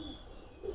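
Red Muslodom coloured pigeons cooing softly at close range, a low murmuring coo swelling near the end against a quiet background, with no voices.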